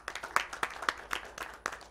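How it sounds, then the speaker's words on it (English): Conference audience at an ophthalmology teachers' session giving a round of applause, heard faintly as a sparse, uneven patter of individual claps rather than a dense roar. "Big round of applause to every one of you."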